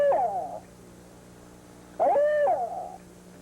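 A man imitates an owl's hoot by mouth, the kind of call used while turkey hunting: two short hooting phrases, near and fairly loud, with a pause between them.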